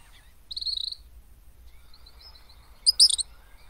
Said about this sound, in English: So, gray kingbirds are gonna leave soon.